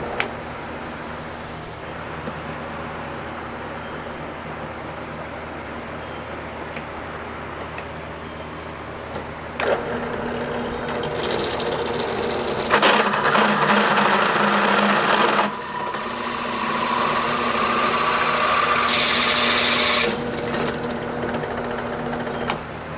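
A power drill whirs steadily nearby, rising to a louder, harsher grinding whine as it bites into wood, boring a hole, then settling back.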